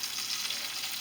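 A steak searing in a hot pan gives a steady, close broadband sizzle that holds at an even level for the whole second, with no voices over it.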